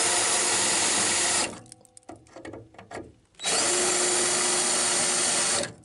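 Power drill boring with a 7.5 mm bit, loud steady whirring runs that stop briefly midway with small clicks and handling noise before the motor spins up again and holds.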